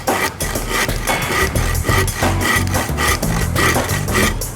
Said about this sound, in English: I'd have to take a handsaw. And I would have to mark where I wanted to cut it, go back and forth